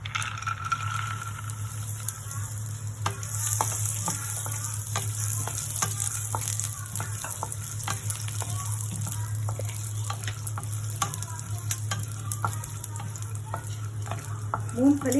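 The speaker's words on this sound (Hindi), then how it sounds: "मूंगफली डाल रही हूँ।" Peanuts sizzle and fry in hot oil in a pan for chutney, with a steady crackling hiss broken by repeated scraping stir clicks throughout.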